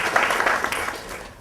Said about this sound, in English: a round of applause and congratulations